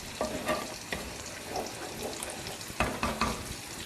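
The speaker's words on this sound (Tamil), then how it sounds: "கிரேவி பாருங்கள் நல்லா கொதிச்சுக்கிட்டு இருக்கு" Ivy gourd (kovakkai) curry gravy bubbles and sizzles in a pan, soft irregular popping and spattering bursts at close range, fairly quiet with no voices.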